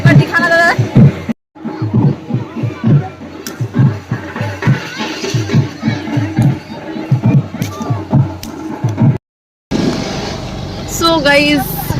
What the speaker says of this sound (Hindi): अभी यहाँ पे पता है कितना भीड़ लगा है